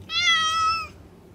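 A house cat lets out a single clear, drawn-out meow lasting just under a second, close by and fairly loud against a quiet room.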